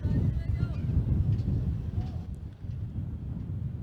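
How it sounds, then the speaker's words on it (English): Strong wind buffets the microphone at an outdoor kids' cricket ground, a steady low roar that dips briefly near the middle and then returns. "It's very windy here"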